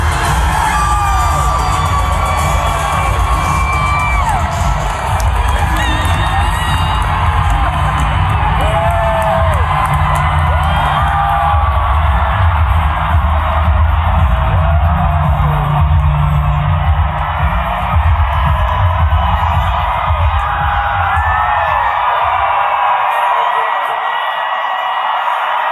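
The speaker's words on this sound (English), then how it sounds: "the capacity crowd in Nampa, Idaho, making the arena shake for AOC." A capacity crowd in a packed arena in Nampa, Idaho, cheering at a political rally, a dense, continuous roar of whoops and shouts that stays loud and sustained before dropping off abruptly at the very end.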